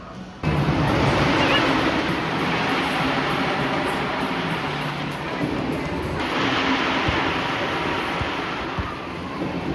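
Riding the Ride of Steel roller coaster at Darien Lake brings a loud, continuous rushing roar of wind and track noise from start to finish.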